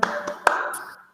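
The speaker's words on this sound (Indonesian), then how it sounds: "369 tepuk tangan." A classroom of students claps a few quick hand claps in a short burst, the sharp slaps ringing briefly in the room before fading out.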